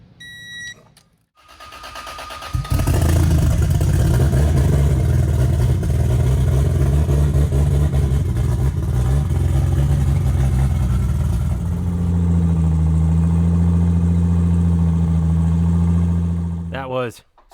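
A 2JZ engine swapped into a Dodge Hellcat, fitted with only the flywheel, cranks and fires up after a brief pause, then settles into a loud, steady, droning idle that holds close for over ten seconds before cutting off.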